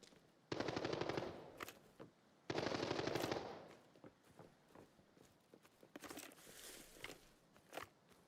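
Bursts of AK-12 automatic gunfire in a video game: two long, loud rapid-fire volleys, then scattered shorter shots and footsteps, with no talking.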